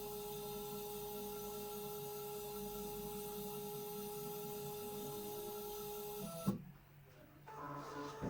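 A particle counter's built-in printer prints test data with a steady, continuous mechanical whir for several seconds, then stops with a clunk. Faint rustling follows.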